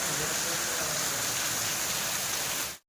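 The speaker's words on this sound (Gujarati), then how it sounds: "જો વધવામાં જ છે વરસાદ" Heavy, steady downpour during a thunderstorm, a dense unbroken hiss of rain that holds loud and even for nearly three seconds before cutting off abruptly.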